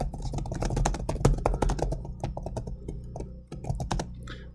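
Quick, irregular keystrokes clatter on a laptop keyboard, close and clear, forming a steady typing run with brief pauses and no talking.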